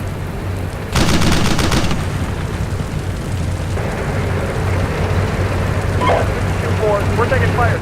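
Bursts of automatic gunfire from AI-controlled troops in the Steel Beasts Pro PE tank simulator, with a loud rapid crackle near one second that settles into steady battlefield rumble and scattered shots.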